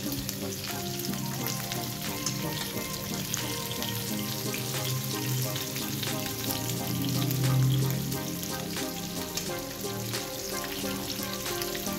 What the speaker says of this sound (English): every part of the saltfish needs to be fried